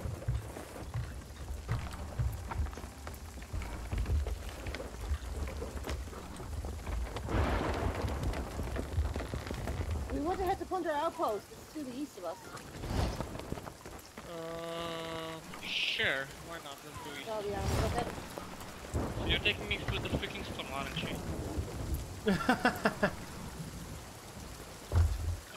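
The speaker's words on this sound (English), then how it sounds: "taking me through the freaking storm, aren't you?" Stormy weather in the video game Sea of Thieves: heavy rain hisses steadily at sea with rumbling thunder, while players talk over it and game sound effects chime in between.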